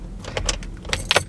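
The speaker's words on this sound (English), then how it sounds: "Why can't I get the keys out of the..." Car keys jangle in a short, bright metallic rattle as they are tugged out of a car's ignition, close and fairly loud with no talk over them.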